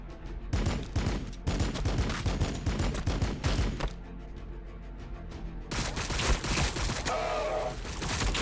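Gunfire in the strategy video game Warhammer 40,000: Battlesector, dense bursts of shots and impacts crackling one after another across the whole stretch, loud and close with busy battle noise underneath.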